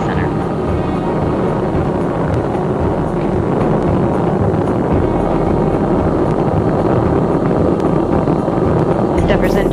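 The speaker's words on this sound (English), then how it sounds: "Endeavour's engines were throttling down as the orbiter passes through the area of maximum pressure on the vehicle" The main engines of Space Shuttle Endeavour make a steady, distant, broadband roar during its July 15, 2009 launch from Kennedy Space Center, rumbling without a break under faint voices.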